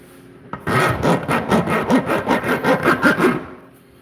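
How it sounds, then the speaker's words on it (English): A file rasps back and forth across a sharp edge on a lampshade part in about a dozen even, rhythmic strokes, close and loud after a single initial knock, with no talking. "We're filing down this thing here"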